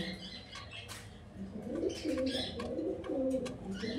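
Pigeons coo in low, throaty bursts while wings flap nearby, kept as a breeding pair, with steady bird sounds and occasional rustling throughout.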